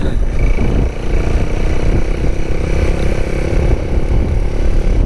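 A white Honda Megapro motorcycle engine runs loud and close at high revs, around 5000 rpm, with a rough, rattly growl that holds steady throughout.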